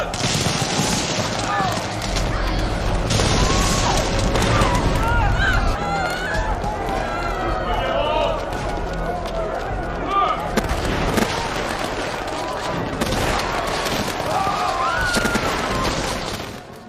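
A massed musket volley fired on command in a Napoleonic-era setting, with loud irregular cracks and booms bursting over a busy battlefield din while voices shout throughout.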